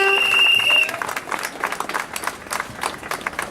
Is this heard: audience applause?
yes